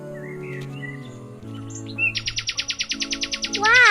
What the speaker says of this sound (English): Oh, it is a nightingale.